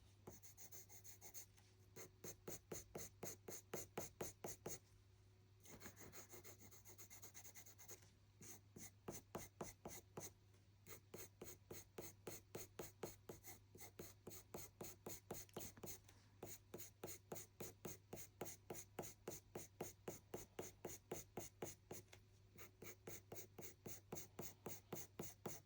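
Coloured pencils, softer Pablo and Polychromos, scratch across paper in rapid, regular short strokes while drawing brown fur on a chocolate Labrador, a faint, close, rhythmic rasping that keeps going with only brief pauses and no talking.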